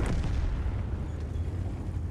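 Artillery fire in the World of Tanks video game, a dense, continuous low rumble of booming blasts that stays loud throughout with no clear pauses.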